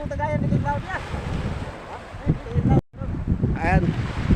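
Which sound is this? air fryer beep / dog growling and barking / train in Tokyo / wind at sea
wind at sea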